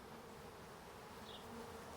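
Honey bees buzzing around an open beehive during an inspection, a faint continuous hum with a passing individual buzz, no talking.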